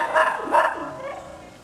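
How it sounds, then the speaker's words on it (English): A dog gives two quick sharp barks close by, followed by a softer trailing yelp, the whole burst lasting little more than a second. "That dog scared the crap out of me."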